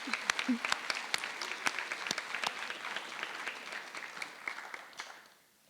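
Audience applause at a high school awards night in an auditorium, a dense spread of clapping that holds steady and then fades out near the end.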